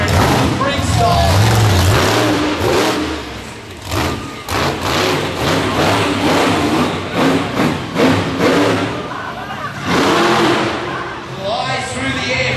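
Six Australian and American monster trucks, four-ton machines, race side by side in a freestyle arena show, their engines roaring loudly and continuously with repeated revving surges and a commentator's voice underneath.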